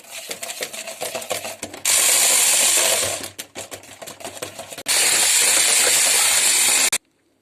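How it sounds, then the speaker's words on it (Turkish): Lemon parfait mixture being beaten with an electric mixer: two long, loud, steady whirring runs separated by a quieter stretch of clinking and handling, ending abruptly. "Şimdi bunu iyice çırpacağız. Sıçramasın derece karıştırıyorum böyle."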